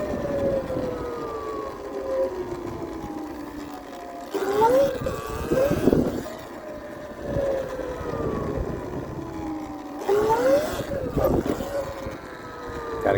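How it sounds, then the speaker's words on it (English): A 2022 Sur-Ron electric dirt bike's motor whines and rises in pitch in repeated surges as the rider practises wheelies, with two stronger bursts of acceleration and a steady hum between them. "See how the wheelie practice has come along."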